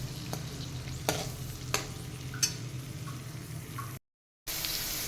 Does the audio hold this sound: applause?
no